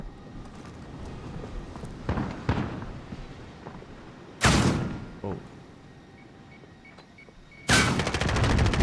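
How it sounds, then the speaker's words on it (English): Bursts of gunfire in an Infinite Flight flight session, several sharp loud volleys separated by quieter gaps, with a long rattling burst near the end over low background noise. "Something's shooting at me."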